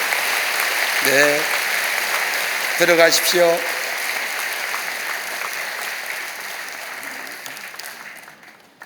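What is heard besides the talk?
church congregation applauding to welcome baptized infants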